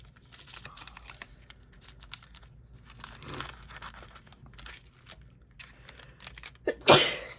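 Paper and a card's corners are trimmed in light, quiet snips and crisp crinkling rustles, scattered irregularly at close range, ending in a sharper, louder crackle of handled paper; no one speaks.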